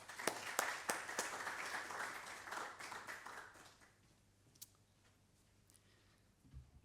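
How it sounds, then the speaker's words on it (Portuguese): An academic audience applauds a master's dissertation prize winner, with distinct claps up front that thin and fade out within about four seconds, leaving a quiet room with a few scattered sounds. "um aplauso para ele"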